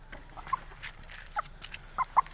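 Scattered short clucks from chickens being caught by hand, a handful of soft, brief calls over a low background rustle.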